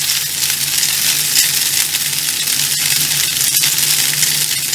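Cooked, still-firm noodles spread flat like a pancake in a pan, frying with a steady, loud, close crackling sizzle that holds evenly throughout, with no talk.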